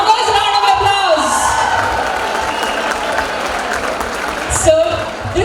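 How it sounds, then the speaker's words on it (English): Sustained applause and cheering from a large college audience at a Freshers' Day event, steady and loud throughout with crowd noise and occasional whoops. "Humongous round of applause."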